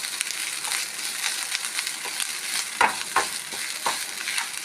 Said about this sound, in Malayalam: കുറച്ച് വേപ്പില, വെളുത്തുള്ളി അവസാനം ഫ്രൈ ആക്കാം.